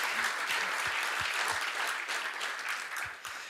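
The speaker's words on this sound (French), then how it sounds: "Oui, vous pouvez l'applaudir." An audience at an international economic forum on Germany applauds during a closing speech: dense, close clapping with some sharper claps, fairly loud and steady for a few seconds before easing slightly.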